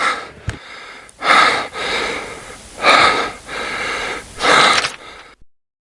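Four loud, rhythmic breathy gasps come in close succession, each a heavy huffing exhale of someone out of breath, with short pauses between them before it falls silent.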